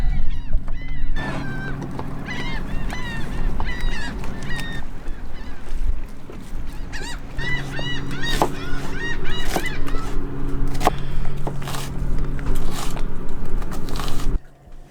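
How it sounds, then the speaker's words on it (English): Laughing gulls call loudly and repeatedly nearby, their harsh cackling cries overlapping against a steady low rumble of engine or water noise. "They're laughing at me, those laughing gulls."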